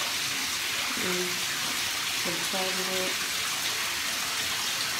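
Steady broadband rush of shower water running at home fills the whole stretch, with a person's voice speaking briefly over it.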